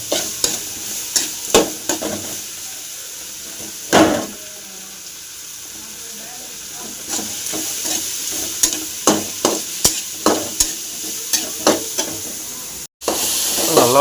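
Masala for kuppaimeni soup sautéing in a pan, with a constant hissing sizzle and a rhythmic series of close spatula scrapes and taps as it is stirred, briefly cutting out near the end.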